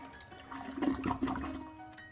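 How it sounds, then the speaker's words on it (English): A toilet flushes in the video game Shadows Over Loathing, giving a short gurgling rush of water that swells and fades within about two seconds. "Definitely flushing the toilet."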